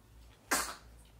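A single short, sharp sneeze from an adult, fairly close and moderately loud, heard alone over a quiet indoor background.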